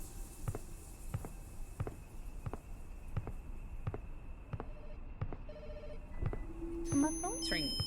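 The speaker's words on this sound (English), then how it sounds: "My phone's ringing." A mobile phone rings in The Shadow Over Route 80 with a steady run of short, evenly spaced beeps, about a dozen in a row, faint against a quiet room hum, before a brief higher chime at the end.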